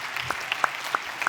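Scattered individual hand claps from an audience at a youth conference, a few distinct claps spaced irregularly and fairly close, with no voices over them.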